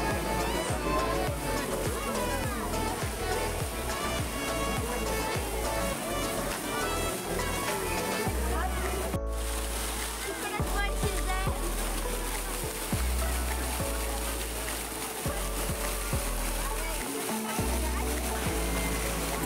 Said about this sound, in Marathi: हे पहा shower, fountain, amazing amazing fountain